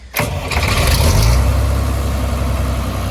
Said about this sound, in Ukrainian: Він такий, ну дуже приємний звук цього двигуна.